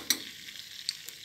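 Hot chili powder and mint hitting oil in a pot of Çeşmi Nigar soup over lowered heat: a soft, quiet sizzle with a few sharp clicks of a spoon, brief and close.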